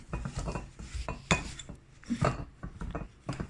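Potato masher cutting butter into flour in a bowl, giving soft scraping and clinking knocks against the bowl in an uneven rhythm, close and fairly quiet with no talk.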